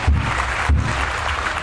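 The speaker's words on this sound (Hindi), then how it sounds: "एक बार जोरदार तालियां" Audience applause at the Kalidas Mahotsav cultural festival in Uchchaith, Benipatti, Madhubani, a short burst of steady clapping with a couple of low thumps.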